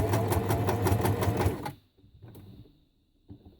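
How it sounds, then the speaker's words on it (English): A sewing machine stitches across fabric scraps in a fast, even rattle for under two seconds, then stops, leaving near silence broken by a small click. "I'm just going to sew over to the other side."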